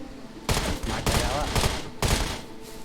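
Gunfire in the survival video game SCUM comes as loud, close bursts of rapid shots in quick succession, with people talking alongside.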